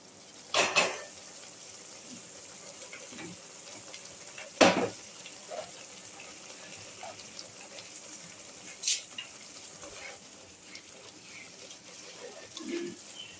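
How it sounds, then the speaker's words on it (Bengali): Spice paste mixed with yogurt frying in a pan for an egg curry makes a soft, low sizzle, broken by a few sharp clanks of a utensil against the pan. "দেখো মশলাটা খুব ভালো করে কষা হচ্ছে, দইয়েরও খুব সুন্দর একটা গন্ধ বেরোচ্ছে।"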